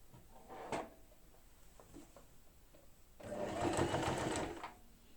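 A sewing machine stitches lining fabric for a knitted bag, with a brief mechanical clack early on, then one steady whirring run of stitching for over a second, close and clear, with no voices.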